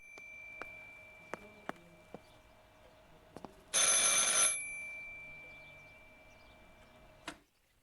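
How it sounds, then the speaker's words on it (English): In the Martha is Dead game, a telephone rings with a steady tone under several sharp clicks, then a loud hissing burst lasts under a second before a final click. No one speaks. "I should pick up the phone but remain silent."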